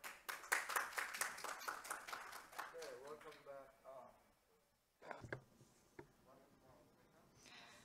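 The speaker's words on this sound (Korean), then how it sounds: "따뜻한 박수로 환영해 주시기 바랍니다." Audience applause at a 2021 Jeju Forum conference session on tourism economics, a burst of brisk, close clapping that fades after a few seconds, followed by a voice speaking over scattered faint hand claps.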